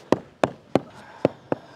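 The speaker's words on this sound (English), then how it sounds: "Give it an initial thud down" Bricks set down into mortar during bricklaying, five sharp, evenly spaced thuds about a third of a second apart, close and distinct over a quiet background.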